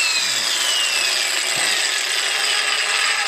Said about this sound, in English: that little bit of grind at the end is normal because right now I'm turning the brushless motor around and it cogs between